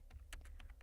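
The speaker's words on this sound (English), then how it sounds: "So I am typing head" Quiet keystrokes on a computer keyboard while entering a Linux terminal command, around seven light, quick taps in an irregular rhythm, close and alone.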